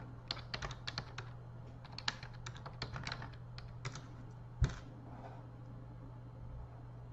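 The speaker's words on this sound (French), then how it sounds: "moi je tape comme ça" A computer keyboard is typed on in quick, clattering bursts of keystrokes close by, then the typing stops after a single louder thump, leaving a low steady hum.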